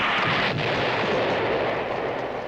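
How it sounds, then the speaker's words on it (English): A cartoon hyper bomb explodes in a superhero action scene, a loud sustained roaring blast with a sharp crack near the start, dense and rumbling throughout with no speech over it. "he's dropped a hyper bomb"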